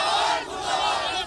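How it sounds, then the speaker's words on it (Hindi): A crowd of protesters shouts slogans against the state government in a dense, sustained roar of many voices, loud and unbroken for about a second. "राज्य सरकार के खिलाफ नारेबाजी करने लगे"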